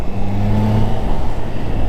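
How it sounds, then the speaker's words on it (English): Stock-exhaust Triumph Trident 660 triple-cylinder motorcycle engine, a steady, smooth close-up note with a faint whine on top, heard alone. "even though this is a stock exhaust, you can really hear that engine note of the triple"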